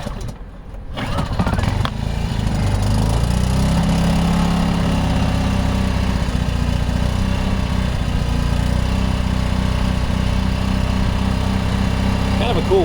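A propane-powered 700-watt Ryobi portable generator runs with a low, steady engine drone after a brief rough start, holding an even idle close by for the remainder.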